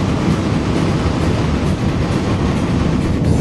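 Loud, dense engine and wind roar from an Audi RS4 running near 7,000 RPM at about 145 mph in the desert, a steady broadband rush heard from inside without a break.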